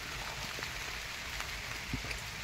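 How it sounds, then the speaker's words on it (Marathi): Rain falls outdoors on a fruit orchard with wet tree branches, a steady, quiet, even hiss with faint scattered drops throughout. "पाऊस चालू आहे बाहेर."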